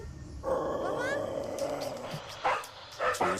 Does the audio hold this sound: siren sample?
no